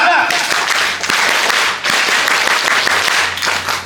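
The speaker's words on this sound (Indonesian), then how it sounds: "mari kita bersama-sama tepuk pramuka" A group of young scouts performs the rhythmic Pramuka clap together indoors, loud and close, with dense patterned claps in quick bursts and short pauses between phrases, voices mixed in.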